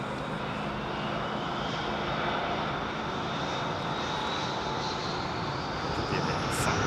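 Aircraft engine roar from a plane at London Heathrow Airport on Bonfire Night, a steady, loud, continuous drone that holds without a break for the whole stretch, with no voices heard over it.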